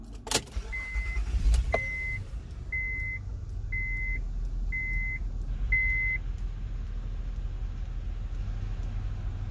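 An Acura MDX is restarted: a brief rustle and clunk, then a series of six evenly spaced electronic chime beeps over a low idle hum.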